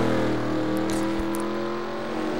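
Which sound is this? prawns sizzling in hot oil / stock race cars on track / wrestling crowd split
stock race cars on track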